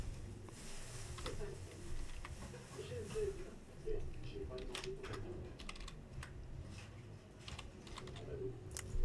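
Quiet typing on a computer keyboard in a search bar, light irregular key clicks in a short burst, faint and near over a soft background hum.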